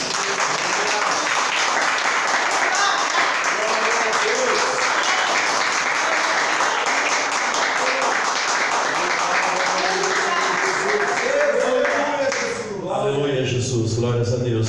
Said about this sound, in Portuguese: Vamos louvar o Senhor com as palmas.